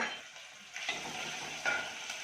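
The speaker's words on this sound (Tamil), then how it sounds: "குழம்பு வந்து தாளிக்கிறேன்" Chopped big onions and green chillies hit hot oil while tempering a vegetable kurma, giving a steady sizzle with a couple of faint stirring scrapes.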